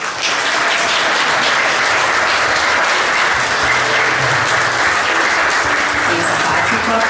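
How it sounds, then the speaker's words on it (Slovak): An audience at a town sports awards ceremony gives a sports team steady, dense applause. The loud, continuous clapping fills the whole stretch, with faint voices mixed underneath. "potlesk patrí Lordom zo Svitu"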